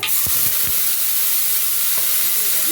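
Pumpkin greens dropped into hot tempering oil in a Bengali kitchen give a loud, steady sizzle and hiss, with a few brief stirring clatters near the start, close and without speech.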